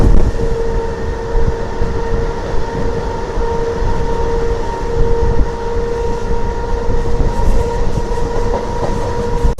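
A DEMU passenger train from Secunderabad to Siddipet runs at speed through a station without stopping, its loud, continuous rumble and rattling wheels heard from on board, with steady tonal hums over the roar and no talk.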